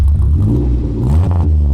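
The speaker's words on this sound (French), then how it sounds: "Tu nous fais écouter la sonorité du gros 4 cylindres?" A Renault 4L fitted with a swapped-in R5 1400 four-cylinder engine starts up close by and settles into a loud, rumbling idle with a brief rise in revs, and there is no talking.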